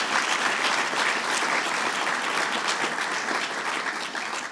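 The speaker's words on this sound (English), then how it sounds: "So let's give him a round of applause." A crowd at a regional government event gives a sustained round of applause, dense and even clapping that stays loud throughout and eases slightly toward the end.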